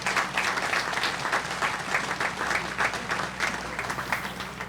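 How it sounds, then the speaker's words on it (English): Steady applause from an audience at a July 4th patriotic program honoring World War II veterans, dense clapping sustained at even loudness throughout, with no voices over it. "A round of applause for Alan B."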